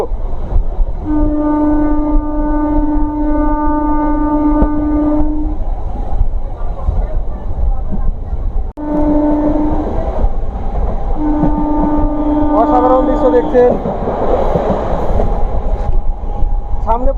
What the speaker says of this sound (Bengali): আজিমগঞ্জ থেকে ট্রেন কাশিমবাজার রেল স্টেশনের পথে সোজা চলে যাচ্ছে